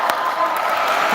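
A crowd at a school volleyball semifinal cheers and claps in a continuous, fairly loud wash of voices and applause, with a few sharper whoops rising out of it.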